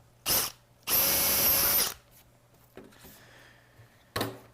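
Power drill boring holes in polycarbonate parts, two loud whirring bursts, the second about a second long, followed by quieter handling clatter and a final short burst of drilling.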